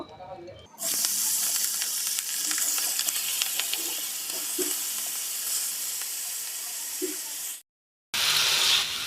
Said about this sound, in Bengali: আমি এখন বাকি মাছগুলো ভেজে নেব